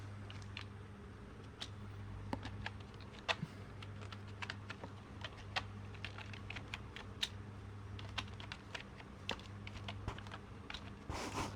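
Fingers tap steadily on a computer keyboard while text is entered in Photoshop, a quiet run of irregular key clicks over a low constant hum, close and without speech.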